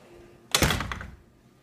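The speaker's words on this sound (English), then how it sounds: "First, we close the door." A door shuts with a single loud thunk that fades quickly in a quiet room.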